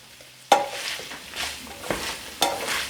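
Peppers and vegetables cook in chorizo fat in a pan for a creamy chorizo pasta, giving a steady close sizzle with three sharp stirring scrapes at intervals and no talk.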